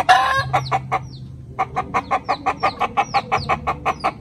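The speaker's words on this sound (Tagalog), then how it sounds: "Ito yung 2 inahin na nabili ko. Magandang inahin to mga kapogi. Magandang klase na darag." Darag breed hens cluck in a steady series of short, loud calls close by, with a low rooster-like hum underneath and no talk.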